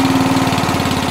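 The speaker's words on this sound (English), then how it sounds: "as you can hear or not hear, that's the engine ticking over" A Qualcast 35s cylinder lawn mower engine idles set on a fast tickover, a steady, rapid, even chugging pulse heard up close with no talk over it.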